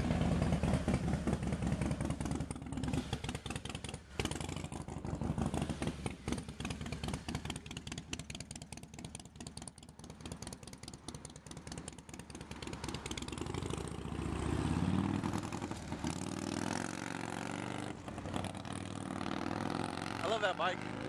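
A motorcycle engine runs steadily on a street near people walking home, a loud continuous rumble across the whole stretch that swells toward the end, with voices faintly mixed in.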